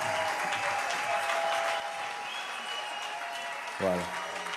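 An audience at a live gospel concert in a hotel hall claps and cheers in a steady wash of applause that eases off toward the end, followed by a brief voice.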